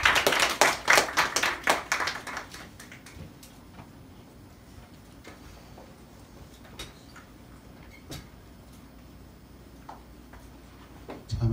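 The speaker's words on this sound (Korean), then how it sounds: "하나님께 감사의 박수 올려드리겠습니다" A church congregation claps together in thanks, a quick burst of loud claps in the first few seconds that quickly thins out, leaving a quiet room with a few scattered sounds.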